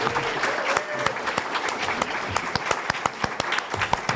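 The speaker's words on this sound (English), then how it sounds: "How about a big round of applause for Logan and the panel members?" Audience applause following a post-screening panel discussion of a film, a steady wash of many hands clapping with sharper individual claps standing out, moderately loud and with no talk over it.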